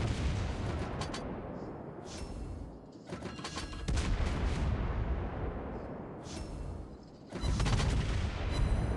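Light cruiser guns fire repeated shell salvos in World of Warships Blitz, with heavy rumbling booms rolling almost continuously and swelling in several loud bursts.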